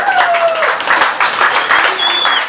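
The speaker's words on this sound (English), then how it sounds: "Let's give ourselves a round of applause for being here" An audience at a literary crawl reading gives a lively round of applause, dense overlapping claps filling the room steadily with a few voices calling out over it.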